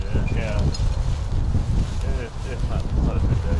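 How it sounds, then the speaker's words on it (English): Steady wind buffeting the microphone outdoors on a pheasant hunt on Long Island, New York, rumbling loudly throughout, with faint voices underneath. "It's real windy."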